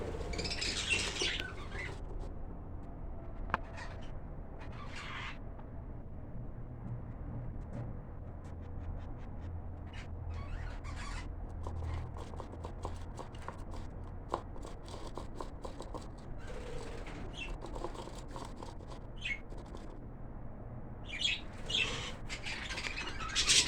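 Birds chirp and squawk in short bursts over a steady low background hum, with scattered scratching and rustling from the enclosure.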